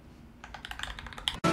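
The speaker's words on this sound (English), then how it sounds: "the test we're going to be taking is a 1 minute typing test," Fingers type quickly on a computer keyboard during a one-minute typing test, a close run of crisp, irregular key clicks that ends in a louder clack.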